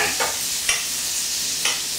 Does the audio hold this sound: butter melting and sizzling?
yes